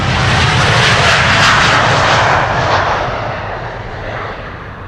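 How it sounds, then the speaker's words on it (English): A KLM Boeing 787-10 Dreamliner roars loudly on takeoff from Amsterdam Schiphol bound for Bogota, steady engine thunder holding strong before easing slightly toward the end. "And this is KLM flight 741 to Bogota, a 787-10 Dreamliner."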